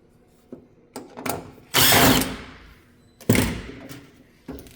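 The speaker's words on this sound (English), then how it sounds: "To remove it, 2 screws." Two screws are removed from a Whirlpool vent hood with a powered driver, heard as close, short whirring bursts separated by clicks and knocks from the hood casing.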